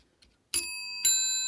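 Two bright, ringing strikes of the original GPO bells on a 1970s GPO Compact Silver Jubilee telephone with a single coil ringer, close and clear against silence, each ding sustaining with a shimmering decay.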